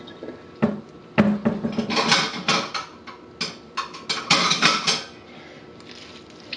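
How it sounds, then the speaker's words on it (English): Dishes clink and clatter near a kitchen counter as a bowl is grabbed, a quick series of sharp knocks and rattles, fairly close with no talking. "grab a bowl,"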